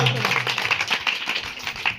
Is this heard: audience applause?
yes